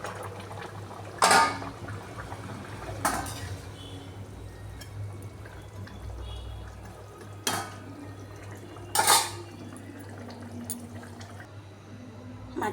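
Fish going into a pot of simmering potato curry: a low, watery bubbling underlies four sharp metallic clanks of a utensil against the pot, spaced a few seconds apart, with no talking.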